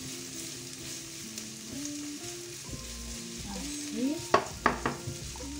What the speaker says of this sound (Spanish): vamos a añadirle la cebollita. Removemos y vamos a esperar que se ponga pochita y doradita.